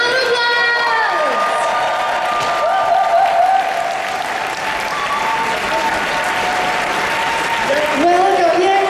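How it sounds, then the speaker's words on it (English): Audience applause and cheering greet the Police Academy cast panel as they walk onstage, a dense, steady wash of clapping and whoops throughout, with a voice and scattered shouts rising over the crowd. "Come on, round of applause!"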